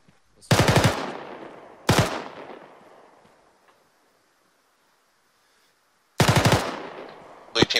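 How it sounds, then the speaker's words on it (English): Heavy machine gun firing in the video game Arma 3, loud close bursts, two short volleys with long echoing decay, a pause, then another burst and a brief start of one more. "There's an HMG on that roof."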